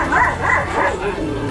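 A dog barks and yelps excitedly while biting a man, with rapid, loud, close barks and whimpers blending into one another over a short burst.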